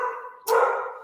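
A single sharp dog bark breaks in close by after a moment of quieter, sustained whine-like sound.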